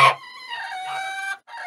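A hen makes a few drawn-out, tonal calls in quick succession, close and fairly clear against a quiet background, in a snowy coop.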